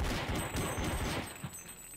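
Rapid, dense pistol gunfire in the video game Crazy Flasher 6, a continuous loud barrage of overlapping shots that thins slightly toward the end, with no voice over it.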